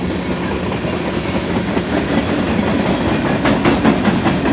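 A BNSF freight train with a mid-train DPU locomotive rolls past on the Spokane Subdivision, a loud, close, continuous rumble with rhythmic wheel clicks over the rail joints.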